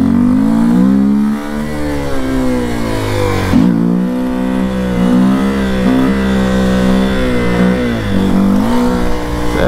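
A Honda XRE 300 motorcycle at wheelie practice, its engine loud and close with a rough, revving growl, pitch rising and falling as the throttle is worked, with one sharp dip partway through.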